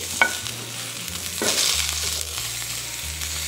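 A cauliflower steak sizzles and fries in a hot pan as it is flipped over, with a steady crackle, a sharp clatter near the start and a brief louder scrape midway.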